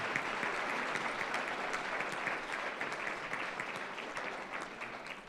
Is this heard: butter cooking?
no